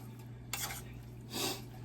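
Canned Philly steak meat and mozzarella cheese stirred together in a pan, giving two short bursts of scraping utensil against the metal over a steady low hum, with no talking.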